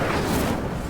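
Incendio, a fire spell in Hogwarts Legacy, goes off in one brief, rushing, fiery burst of broad noise with a low rumble, moderately loud and close.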